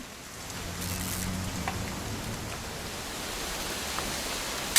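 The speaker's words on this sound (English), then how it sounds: "It's gonna rain the whole weekend," Steady rain falls softly and evenly in the video game What Remains of Edith Finch, a constant hiss with a few scattered drops, fairly quiet with no voices.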